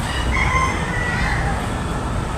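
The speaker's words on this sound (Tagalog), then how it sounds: "Itom na manok." A black chicken crowing loudly and close, a sustained rasping call over a continuous outdoor background, lasting the whole short moment.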